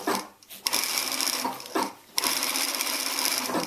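A sewing machine stitches a thin spaghetti strap in fast, loud runs, with two short pauses where the stitching stops before it starts up again.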